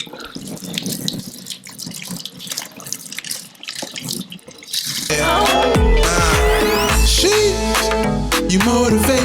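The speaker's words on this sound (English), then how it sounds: "I'm just gonna pour the rest of the water out as much as you can." Water from a pot of soaked rice is poured out, first as a trickling, splashing flow for a few seconds and then as a louder, steady gush into a sink.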